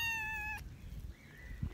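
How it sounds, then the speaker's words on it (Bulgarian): A kitten on a farm gives one clear, high, drawn-out meow up close, followed by quieter rustling and a faint second mew. "Хайде да приберем котенцата."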